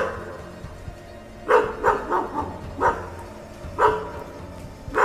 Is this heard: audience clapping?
no